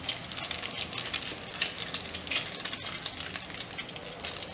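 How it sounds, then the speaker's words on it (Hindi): Egg-dipped cheese balls fry in oil with a soft, crackling bubbling, small pops bursting irregularly over a quiet background hiss. "और फिर हम इसे करेंगे फ्राई।"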